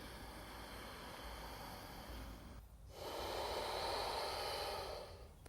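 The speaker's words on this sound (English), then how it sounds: "The breath we want to use here is called Ujjayi breath. It has a nice, full, resonant sound." Ujjayi yoga breathing, a full resonant hiss from the back of the throat, heard close as two long sustained breaths, the second louder and brighter than the first, with no talking.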